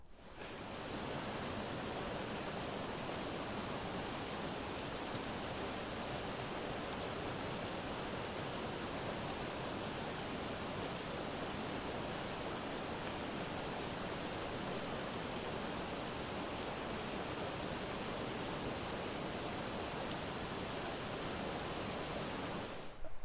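Creek water rushing steadily at a hiking trail crossing, a dense, continuous wash of flowing water that stays close and even throughout with no voices.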